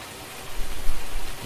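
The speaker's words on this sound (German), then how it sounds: "Immer wieder Regen." Rain falling in the farming game Farming Simulator 19, a dense, steady hiss of drops with a slightly heavier low patter through the middle, short and alone without talk.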